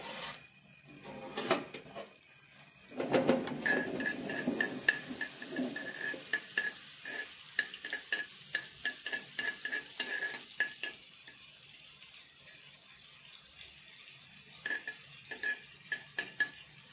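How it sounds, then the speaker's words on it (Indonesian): Split bananas fry in melted butter in a pan over low heat, giving a soft sizzle broken by repeated clinks and scrapes of a utensil stirring against the pan. "Kemudian kita goreng pisang yang tadi sudah dibelah-belah."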